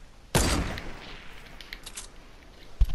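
Gunfire in the Fortnite video game, with one sharp burst of distant shots followed by a quiet stretch and a single thud near the end.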